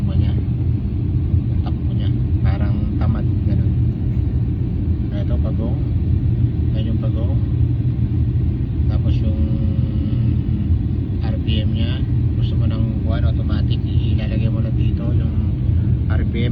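A Shantui bulldozer's engine runs steadily, a loud, continuous low rumble that fills the whole stretch, with a voice talking over it now and then.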